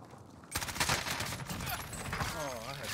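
Rapid bursts of gunfire from Call of Duty Cold War multiplayer, an MP5 SMG build, crackle in dense volleys after a brief quiet start, mixed with game effects and talk.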